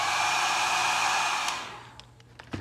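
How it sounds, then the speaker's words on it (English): A hair dryer blows steadily at close range onto weathered clapboard wood for about a second and a half, then cuts off, leaving faint knocks and handling clicks. "So we're gonna hit it with the hairdryer again."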